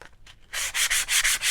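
Steady sanding of a wooden shiplap platter with a sanding block, a few light strokes followed by sustained, rhythmic back-and-forth rasping that is close and loud, with no talking.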